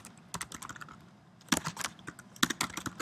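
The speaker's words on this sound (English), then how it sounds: "press the share icon and you can type in your email address" Someone types an email address on a computer keyboard. Soft, irregular keystrokes start sparse, then come in quicker clusters of clicks, close by and moderately quiet.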